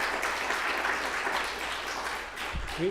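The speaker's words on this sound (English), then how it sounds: "let's have a nice round of applause and a warm thank you to Steve" Steady applause from a crowd fills the whole stretch, dense and even, with a brief low thump near the end.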